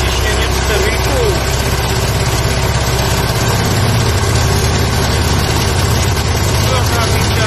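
A warmed-up machine engine idles steadily, a dense continuous low rumble close by with broad mechanical noise, holding an even level throughout.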